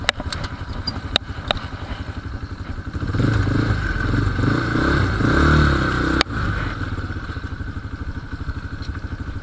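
A new ATV heads downhill on a mountain farm trail, its engine running steadily while the chassis clatters and rattles over rough ground. There is a sharp knock partway through, and the engine sound swells and then settles.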